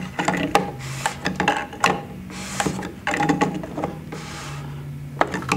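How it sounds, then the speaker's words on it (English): Snugging something down firmly with a SmartChoice multi-tool during a GEN II piston and seal replacement, a string of sharp close mechanical clicks and ratchet-like ticks at irregular spacing, with no talking. "you're going to use the SmartChoice multi-tool again and you're going to snug this down firmly"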